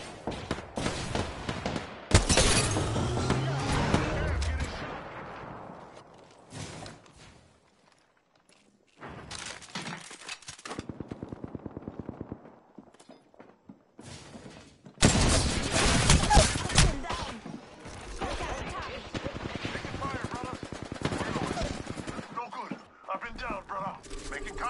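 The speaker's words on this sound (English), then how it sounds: "I am taking fire, friends." Bursts of video game gunfire from a sci-fi shooter, rapid automatic volleys in loud clusters separated by quieter stretches with footsteps and shuffling.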